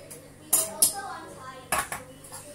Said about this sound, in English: I think I'm going to use this small sufuria here to cook them